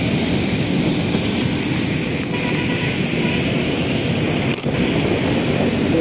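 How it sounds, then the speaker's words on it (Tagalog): Steady wind roars and buffets the microphone in a constant low rush, with a faint distant drone beneath it. "At ang hangin."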